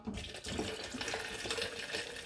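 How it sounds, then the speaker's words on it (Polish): Sparkling water poured over rhubarb lemonade ingredients and ice cubes, a steady fizzing, splashing pour that runs continuously and moderately loud throughout. "Zalewam to wszystko wodą. Ja mam tutaj wodę gazowaną"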